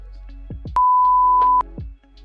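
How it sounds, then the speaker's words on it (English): A steady pure-tone censor beep lasts under a second, cutting across speech; voices talk briefly before and after it. "Beep, a fucking censor."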